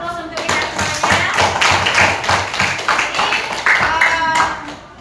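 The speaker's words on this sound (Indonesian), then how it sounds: "Aplaus untuk kita semuanya." An audience applauds at an Islamic religious education class event, with dense, close clapping that continues throughout and a voice briefly audible over it.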